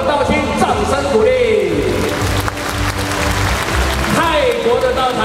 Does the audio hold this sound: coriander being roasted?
no